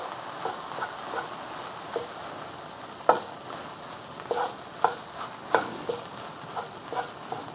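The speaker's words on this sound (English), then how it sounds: "Just keep stirring until all the rice is evenly browned." Rice stir-fried with soy sauce in a pan for egg fried rice, a steady soft sizzle broken by sharp scraping clicks of a utensil against the pan at irregular intervals.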